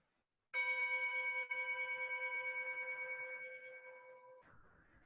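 A single strike of a meditation bell rings out clear and close, its steady tone slowly fading for several seconds before cutting off into faint background noise.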